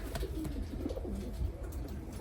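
Pigeons cooing, repeated soft low coos close by against steady background noise.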